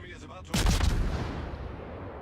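Heavy naval gunfire from a Khabarovsk destroyer in the World of Warships game: a sudden booming blast lands mid-clip and rolls off into a long, rumbling decay.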